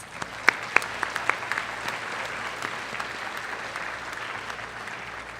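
A few sharp early claps swell into steady applause from a banquet audience at a 4-H awards dinner, a moderately distant, even clatter that holds to the end.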